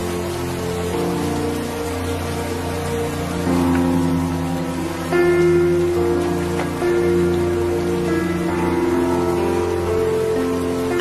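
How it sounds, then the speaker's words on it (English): Steady rain falling on surfaces during a storm in a small town, a dense continuous patter with scattered nearer drops, moderately loud and alone without speech. "I think we need to get in and out of the rain now."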